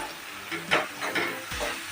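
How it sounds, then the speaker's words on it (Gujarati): Fresh fenugreek leaves sauté in hot oil for maize-flour vada, giving a steady close sizzle and hiss with a few stirring scrapes in the pan and no talking. "મેથીને આપણે એક મિનિટ જેટલી જ તેલમાં સાતળવાની છે"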